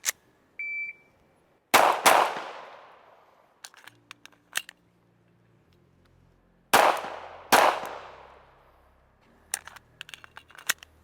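Two pairs of sharp, loud pistol shots from a SIG P365 XL Macro fitted with a Radian Ramjet, each pair fired in quick succession with a long pause between, followed by faint metallic clicks and handling noise.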